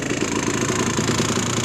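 A two-stroke 125 dirt bike engine, either a Yamaha YZ125 or a Kawasaki KX125, runs steadily up close with a loud, continuous buzzing drone and no break or change in pitch.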